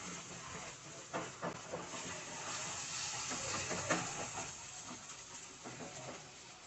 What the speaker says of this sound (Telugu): ఇది పచ్చి వాసన పోయే వరకు చక్కగా ఫ్రై అవనియండి.